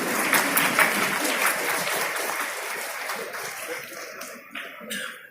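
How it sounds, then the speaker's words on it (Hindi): Audience applause at a Jharkhand government ceremony, brisk clapping from a crowd that is strong at first and then thins into scattered claps as it fades out. "तालियां भी स्मृतियों में होनी चाहिए।"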